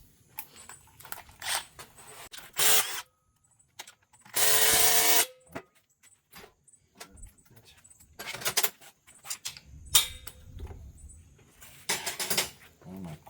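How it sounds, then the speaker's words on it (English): Quarter-inch impact wrench rattling against a small nut during top-end disassembly of a 1987 Porsche 911 engine, in short hammering bursts with one longer loud burst, separated by quiet gaps and light tool clinks. "Well, my 1/4 inch impact can't take that little nut off."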